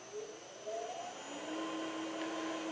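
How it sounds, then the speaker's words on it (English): An RMT PSM 8 pipe spool machine runs its spindle with a steady electric whir, rising tones sweeping upward as it speeds up, close and continuous. "We'll go ahead and fire up the machine now and do a cut on this."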